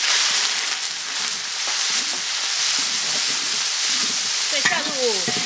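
Ginger, garlic and chili hit plenty of hot oil in a wok for a stir-fry of chicken giblets with pickled greens, giving a loud, steady sizzle with scraping and clinking of utensils underneath.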